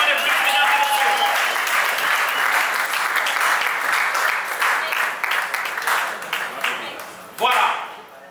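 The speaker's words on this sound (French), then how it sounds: "Si on va applaudir pour le couple Steve et Rachel" Wedding guests applaud the couple Steve and Rachel at a traditional marriage celebration, sustained loud clapping from a crowd that thins out toward the end, with voices mixed in and a brief burst near the close.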